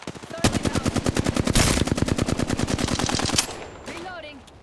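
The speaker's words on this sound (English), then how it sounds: "I am taking fire, friends." Rapid automatic gunfire rattles out in a video game battle, a fast, even stream of loud shots lasting about three seconds before it cuts off, with a brief voice afterward.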